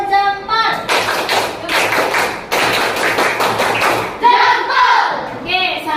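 A classroom of children doing the thumb-clapping game 'tepuk jempol', rhythmic bursts of hand claps and taps in quick groups, with children's voices chanting and calling between the beats.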